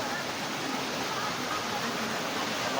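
Water from a small waterfall at a hidden resort pours in a steady, broad hiss, close and constant with no breaks.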